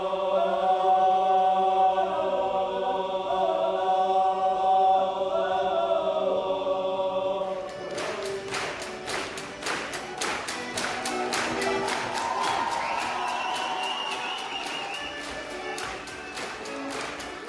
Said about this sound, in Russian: Гости рукоплескали стоя.